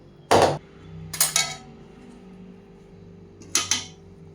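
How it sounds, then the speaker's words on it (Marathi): A spoon scrapes and knocks against a pan while rava laddu mixture is stirred: three loud, short metallic clatters, the middle one a quick double scrape, over a faint steady hum. "हे मिश्रण चांगले ढवळून घ्या."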